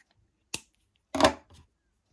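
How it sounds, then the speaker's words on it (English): Scissors snip through crochet yarn, a short sharp click followed by a louder cutting sound and a faint trailing snip, close and alone in a quiet room. "now here I'm going to cut my yarn"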